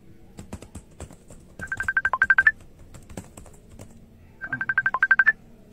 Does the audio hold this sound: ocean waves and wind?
no